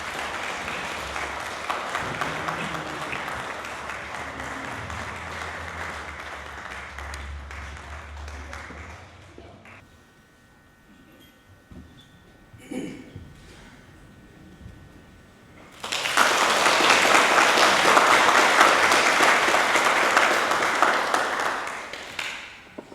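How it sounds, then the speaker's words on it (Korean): Audience applause welcoming a lecturer at a summer academic conference on the Gospel of Thomas, loud sustained clapping from a large hall crowd, fading to quiet with a few taps, then surging again in a second strong burst of applause. "우리 선생님 나오실 때 여러분들 크게 박수로 환영해 주시면 감사하겠습니다"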